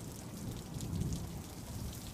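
Steady rain falling at night, a dense, even hiss of drops with a low rumbling undertone, continuous and fairly soft with no voices.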